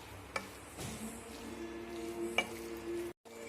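Bottle gourd (ghiya) sautéing in ghee over a medium flame, a soft steady sizzle broken by a few sharp spoon clinks and scraping stirs against the pan, with a brief dropout near the end.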